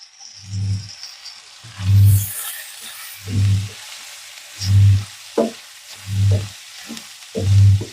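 Fenugreek seeds, cumin and spices sizzling in hot oil in a pan, with loud bursts of frying recurring in a steady rhythm about every 1.4 seconds, plus a sharp clink near the middle.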